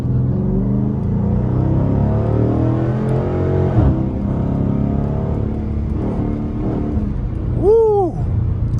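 A Chrysler 300S in track mode with traction control off accelerates hard, its engine droning and climbing steadily in pitch before a sharp rising rev near the end.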